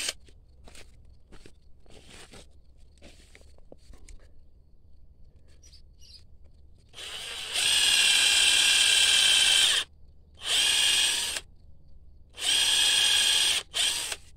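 A power drill bores into a grapevine for summer grafting, three loud whining bursts of a few seconds each, separated by brief pauses, after a stretch of quiet clicks and handling noises.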